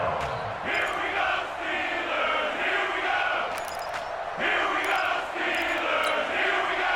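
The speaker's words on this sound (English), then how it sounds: "The crowd getting into it as we come up on a big 3rd down." Stadium crowd noise in the video game Madden NFL 20, a steady roar of cheering fans swelling in waves ahead of a big third down, with scattered louder shouts throughout.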